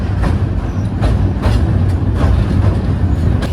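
A passenger train rolls across a river bridge near Sreemangal, its loud steady rumble and rhythmic wheel clatter heard from on board, with periodic clanks from the rail joints throughout.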